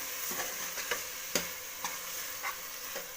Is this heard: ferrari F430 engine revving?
no